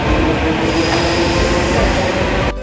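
Loud Delhi Metro train wheels squeal steadily against the rails with a continuous rumbling roar, cutting off briefly near the end, at a nearly empty station.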